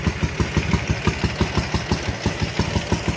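A Ural motorcycle engine, started after sitting for 11 years with carburetors that had been plugged with lacquer, idles close by with a steady rapid thumping pulse, alone and without voices.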